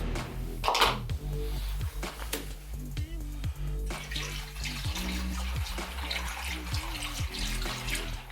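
Coolant glugs and gurgles into an LS Vortec engine after a water pump replacement, with repeated bubbling pulses and a steady pouring rush up close, with no talking.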